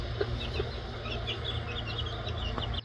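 A hen with her young chicks in a barn on a homestead, soft clucks and peeps scattered over a steady background hum of insects and ambient noise, faint and fairly distant.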